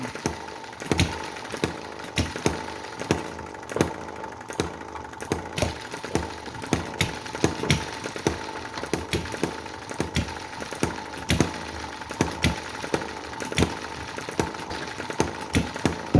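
A small hit-and-miss model engine fires in irregular bursts, sharp pops spaced unevenly with quiet coasting gaps between, steady and close, no voices.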